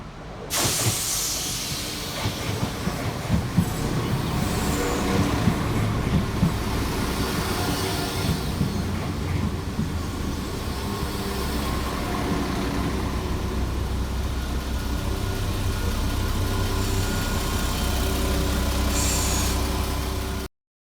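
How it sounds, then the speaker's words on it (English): West Midlands Railway units 172220 and 172218 arriving at Blakedown station, a loud, sustained diesel rumble with hissing brakes and rolling wheel noise that holds steady nearby for about twenty seconds. "here comes 172220 and 172218, with the 1642 West Midlands Railway service from Worcester-Falgate Street through to Dorwich"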